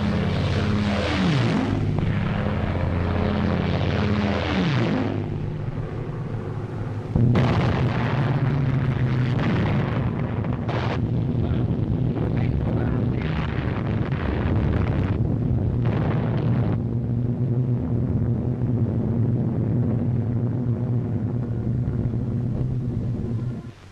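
RAF aircraft carrying out a bombing raid, with a loud continuous roar of aircraft engines and heavy rumbling explosions building in intensity throughout, no voices.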